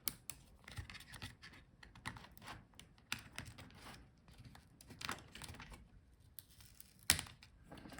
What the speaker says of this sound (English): So there is no screws, just unplug it from the motherboard.